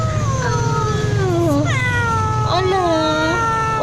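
A stray cat meows several times in a row, drawn-out rising and falling cries, close and loud over a low background hum.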